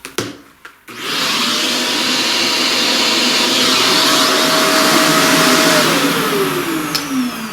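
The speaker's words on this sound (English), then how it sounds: "let's vacuum on that." A vacuum cleaner starts up after a few knocks and runs loudly and steadily for several seconds, its broadband roar holding a tone that drops slightly near the end, during a pastel flower craft session.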